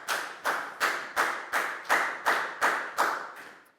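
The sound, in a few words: classroom applause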